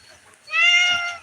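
A single drawn-out cat meow, close and clear, rising then holding for about half a second against a quiet background.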